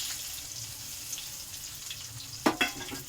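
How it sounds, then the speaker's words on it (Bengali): Chopped onion fries quietly in hot oil already tempered with bay leaf and cumin, a soft, continuous crackle. Near the end, a couple of sharp metallic clinks from the pan or utensil stand out. "তো তেলটা আমার গরম হয়ে গেছে, এরপর আমি পেঁয়াজ কুচি দেওয়া হবে।"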